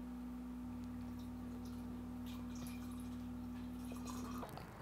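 Liquid pouring into a glass for a product shot, a steady continuous flow with faint dripping over a constant low hum, ending abruptly near the close.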